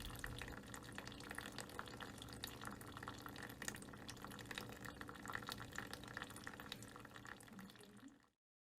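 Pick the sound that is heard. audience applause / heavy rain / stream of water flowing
stream of water flowing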